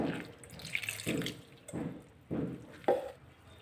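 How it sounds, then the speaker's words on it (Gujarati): Fresh water splashes and sloshes in a bowl as grated potatoes are rubbed and washed by hand, in repeated close scrubbing surges with no talk. "એની અંદર તાજું પાણી નાખી અને એકદમ સારી રીતે એને ઘસી અને ધોઈ લેવાનું છે"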